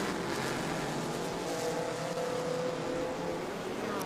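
Race cars at an Indy SpeedTour event, a modern C6 Corvette among Porsches, roaring past as a sustained, loud engine drone with a slowly shifting pitch, steady and unbroken, no voices.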